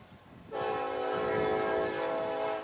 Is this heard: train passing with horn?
yes